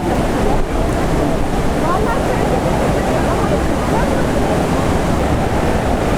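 Waterfall rushing beneath wooden walkways at a sacred water site in Ubud, a loud, continuous broadband roar with wind buffeting the microphone, heard up close.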